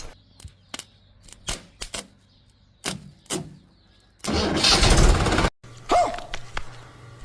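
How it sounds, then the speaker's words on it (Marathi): Tractor being coaxed to start after trouble: sharp clicks and knocks, then a loud burst of cranking or engine noise for about a second, followed by rougher intermittent running sounds. "ट्रॅक्टर तर चालू झाला"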